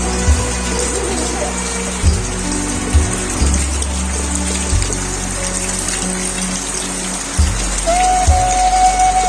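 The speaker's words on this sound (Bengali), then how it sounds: "তাই অনেকদিন পর দেখতে পারলাম বৃষ্টি" Rain falls steadily at Taherpur, a continuous wash of drops over a dense low hum, with occasional soft knocks and a faint tone late on; no clear speech.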